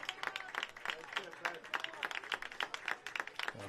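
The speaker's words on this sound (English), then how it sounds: "Appreciation here from the George Washington faithful." George Washington fans at a high school girls' soccer game clap in a steady, scattered patter from a modest crowd, with a commentator talking over the applause.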